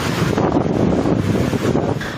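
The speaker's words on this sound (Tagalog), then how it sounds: "Malabagyo ang bugso ng hangin" Strong wind from a thunderstorm in Metro Manila buffets continuously in a loud, roaring rush with pulsing gusts, like a storm blowing hard across the microphone.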